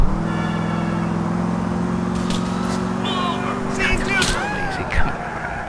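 A Shelby GT500, modelled on the Sabre GT in GTA IV, drones at a steady pitch with a high turbocharger whine riding over the engine note. Other game sounds cut in near the end, and a voice talks over it.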